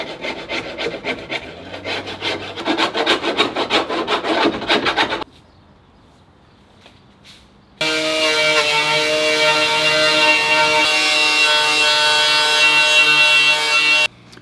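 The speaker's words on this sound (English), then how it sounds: "Scrape the undercoating off, give it a quick little sand because it'll weld better when there's not undercoating" Hand scraping then sanding strips undercoating from a 1967 Porsche 911 body panel: rhythmic rasping strokes for about five seconds, a short quiet pause, then a steady loud abrasive grinding that continues to the end.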